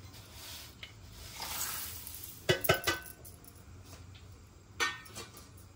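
Roasted oats and dried fruit are tipped into hot syrup in a pan for an oats energy bar, with soft rustling and sizzling, then a few sharp clinks of a spoon against the pan.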